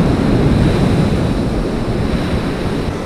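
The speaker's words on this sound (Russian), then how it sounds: "Сейчас, видимо, прибой начался." Ocean surf breaks on the beach at Biarritz, a loud, continuous roar of waves and wind buffeting the microphone.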